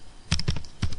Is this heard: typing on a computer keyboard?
yes